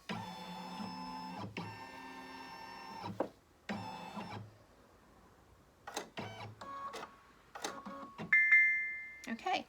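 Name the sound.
Baby Lock Destiny II embroidery machine carriage moving while scanning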